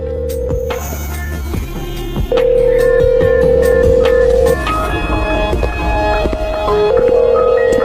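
A telephone rings unanswered in steady repeated electronic tones, loud and close, with tone bursts separated by short gaps over a low background hum, and no voices.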